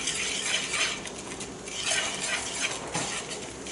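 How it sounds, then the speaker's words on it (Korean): The rounded back of a spoon stirs oil and soy sauce seasoning in a small dish to emulsify it, making close, steady scraping and soft clinking of metal against the dish in repeated circular strokes. "스푼 뒤에 둥근 부분을 이용해서 섞어주세요"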